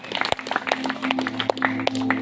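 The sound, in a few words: audience clapping hands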